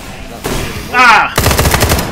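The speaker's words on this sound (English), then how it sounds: "These fucking things are shooting at me now." Enemies fire on the player in a shooter game, a short burst of rapid gunfire following a rising electronic whine, loud and close.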